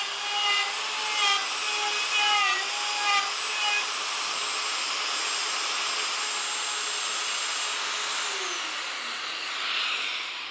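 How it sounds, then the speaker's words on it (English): A router with an extended base cuts a latch mortise into a new door hung in an old jamb, a steady close high-pitched whine that shifts in pitch as the bit bites into the wood, running alone. "This is kind of a cool router because the extended base on it allows you to set this router on here and it won't tip or anything."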